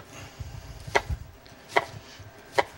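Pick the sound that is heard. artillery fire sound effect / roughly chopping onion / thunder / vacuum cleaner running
roughly chopping onion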